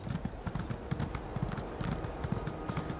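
Horse hooves clip-clop steadily at a riding gait in The Elder Scrolls Online, a continuous rhythmic trot of close, even footfalls over ambient game sound.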